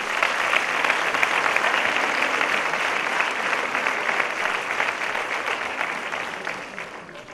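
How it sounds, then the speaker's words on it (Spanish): An audience at a sports awards gala applauds, a dense, sustained wash of clapping from a large crowd that holds steady throughout and fades slightly at the end. "Un aplauso para todos ellos"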